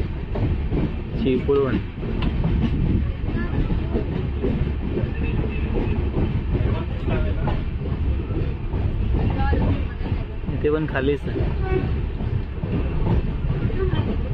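Aboard the Ratnagiri passenger train running on the Konkan Railway in the off season, a loud continuous rumble and clatter of wheels fills the coach while someone talks over it.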